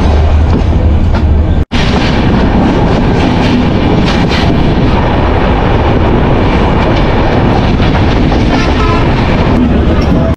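Drutojan Express of Bangladesh Railway running at night between Dhaka and Panchagarh, heard from inside the train: a loud, steady rumble of wheels on track with rattling carriages, continuing throughout after a brief cut near the start.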